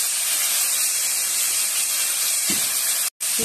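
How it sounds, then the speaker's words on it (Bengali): Cauliflower frying in a pan with a little salt and turmeric gives a steady, fairly loud hiss that holds evenly throughout, broken by one brief gap near the end, with no voices over it. "এবার ফুলকপিটা ভেজে নেব।"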